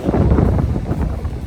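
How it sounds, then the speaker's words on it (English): Strong coastal wind on Fuerteventura buffets the microphone, a loud, steady rumbling roar with fluttering gusts and no voices. "This is just too windy."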